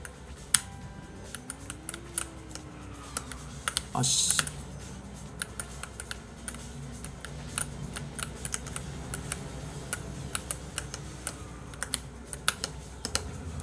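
Close keyboard typing comes in scattered quick bursts of clicks during a game, with a low drone of game sound under the keys and a brief muttered voice.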